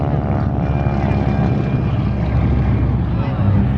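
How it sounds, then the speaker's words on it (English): A 1927 Travel Air biplane from Wichita, Kansas passes at an airshow with a loud, steady propeller-engine drone and a faint tonal whine throughout. "1927 Travel Air. There's your oldest airplane on the field."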